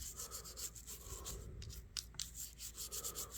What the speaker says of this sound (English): I just want to scrub on here a little bit, clean these out